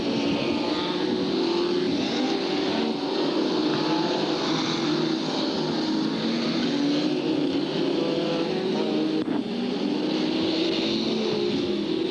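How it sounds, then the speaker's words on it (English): Formula 2 race cars circle the Hartlepool circuit at a 1993 consolation race, a steady loud engine drone lasting throughout with a slight surge near the end, no talking. "So the car's coming around now"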